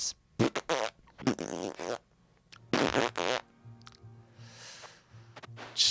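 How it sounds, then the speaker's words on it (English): Cartoonish fart sound effects from the Vagante video game burst out repeatedly in short, uneven blasts, loud and close, mixed with thumps and other game noises and no speech. "It's just fucking fart noises."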